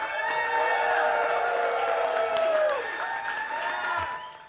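A large crowd gathered to see wrestler Hulk Hogan in the Twin Cities cheers and applauds loudly and steadily, a dense wash of voices and clapping that fades slightly toward the end.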